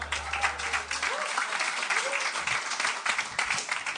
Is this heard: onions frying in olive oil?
no